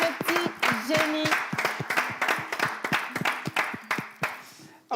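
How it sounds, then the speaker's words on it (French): A studio audience at a French-language television show claps in a loose, uneven rhythm while a voice talks over the applause, the clapping fading near the end. "d'applaudir ces présents, ces petits génies"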